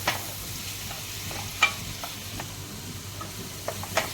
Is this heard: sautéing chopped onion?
yes